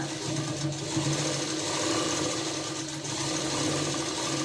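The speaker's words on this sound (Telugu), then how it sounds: "ఇలా మనము రెండు ఇంచు రెండున్నర ఇంచు వచ్చేలాగా మనము ఒక కుట్ట అన్నది వేసుకోవాలి" A sewing machine stitching the front part of a blouse, running continuously with a steady mechanical whir and hum at close range, unbroken for the whole stretch with no voice.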